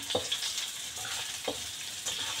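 Garlic and crab stick sauté in a hot pan alongside ginger for a stir-fry with asparagus, giving a steady close sizzle broken by a few sharp stirring scrapes.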